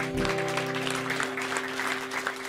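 Steady applause from an audience at a live election debate fills the moment, a continuous wash of clapping with a held musical tone lingering underneath.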